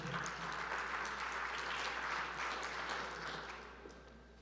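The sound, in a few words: audience applause for panel moderator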